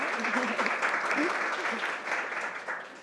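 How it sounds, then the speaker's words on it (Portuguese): A small group claps for a guest at the end of a Brazilian interview, a dense patter of applause lasting a few seconds while a voice speaks over it. "Palmas pra Bela"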